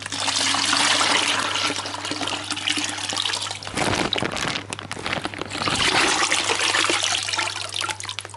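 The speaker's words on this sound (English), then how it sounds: "I'm going to mix some of the water with them." Water pours and trickles into a bucket holding newly arrived predatory fish, a continuous close splashing flow that briefly drops off midway before resuming.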